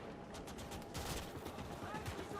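Dense World War II gunfire in the video game Gates of Hell, with machine guns and rifles crackling continuously and dull heavy blasts from a German outpost under attack by Russian troops and a tank, at a moderate distance with a voice talking over it.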